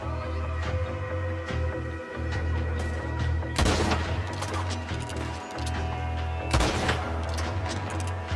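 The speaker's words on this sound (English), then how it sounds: "Who else is shooting at you, buddy?" Rapid, loud gunfire from a Red Dead Redemption 2 shootout, with two heavy bursts of overlapping shots standing out against a constant game backdrop of low engine-like hum and scattered single reports.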